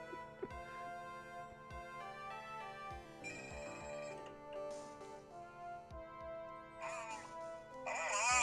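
A phone ringtone melody plays from a clip a friend sent, a steady tonal tune with regular soft thumps beneath it and brighter chirpy sounds near the end, moderately quiet.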